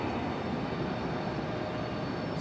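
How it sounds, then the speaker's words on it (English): Copa Airlines Boeing 737 MAX 8 arriving from Panama City at Raleigh Durham airport, a steady broad jet roar with no breaks, fairly distant and even in level. "we will have a Copa on the MAX 8 arriving after that one"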